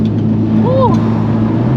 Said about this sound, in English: Ooh, the turbo flutter and the blow-off valve all in one!